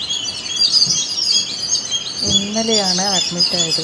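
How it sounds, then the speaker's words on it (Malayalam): Birds chirp and twitter steadily outside a hospital window, a bright continuous chorus, with a person speaking nearby over the second half. "അവിടുത്തെ ആ ജനാല അങ്ങോട്ട് തുറക്കുമ്പോൾ അവിടെ കിളികളുടെ ആ ശബ്ദം കേൾക്കാൻ നല്ല രസമുണ്ട്"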